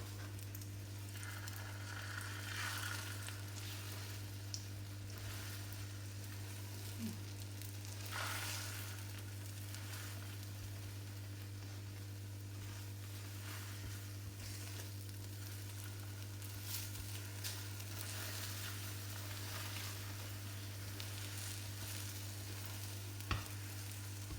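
Quiet, continuous sizzling and crackling of eggs with onion frying in a pan over a low steady hum, with occasional faint clicks.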